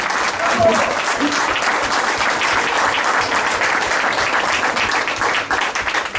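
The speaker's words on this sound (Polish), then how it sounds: "Wielkie brawa, proszę Państwa." Loud, sustained applause from an audience at a sailing awards ceremony in Szczecin, dense clapping filling the room continuously with a voice heard faintly over it.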